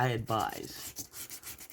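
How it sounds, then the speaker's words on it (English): A short scratchy rubbing of light sanding on paper, brisk strokes repeating for under two seconds after a brief vocal sound at the start. "I just give it a light sanding to get that off"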